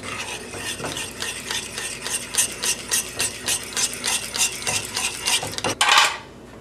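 Oregano is stirred into pizza sauce in a pan: a utensil scrapes around the pan in a quick regular rhythm of about a dozen strokes, ending in a brief louder clatter, with no voices.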